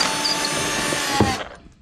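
A power drill whirs steadily while backing out seat bracket bolts on a bass boat interior, a single sustained run with a brief bump near the end before it cuts off abruptly.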